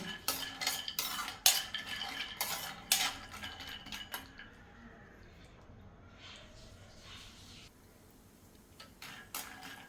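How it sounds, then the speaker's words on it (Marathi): Almonds are sautéed in a pan with a spoon, sharp scraping and clinking stirs in bursts during the first few seconds, then quieter faint movement and light sizzling. "बदाम आपल्याला हलकेसे यामध्ये परतून घ्यायचे आहेत"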